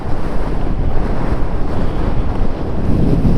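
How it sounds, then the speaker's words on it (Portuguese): Strong wind roars steadily across the open Patagonian Ruta 40 between Gobernador Gregores and El Chaltén, a loud, continuous broadband buffeting with gusty surges and no voices. "Olha o ventão."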